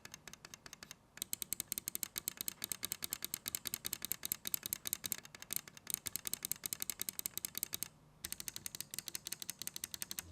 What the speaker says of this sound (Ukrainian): Клік чіткий і короткий